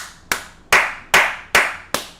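Five sharp, evenly spaced hand claps from one or two people in a bedroom, each crisp and close with a quick decay, no talking.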